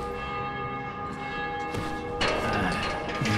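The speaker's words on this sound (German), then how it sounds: "Die Glocken erklingen." Church bells in the video game Dying Light ring out loud and resonant, with strikes sounding over a sustained humming tone and a louder peal late in the sequence.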